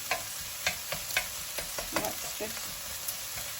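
Tomatoes go into onions frying in a pan, giving a soft sizzle broken by repeated spatula knocks and scrapes as the mixture is stirred, fairly quiet and with no voices.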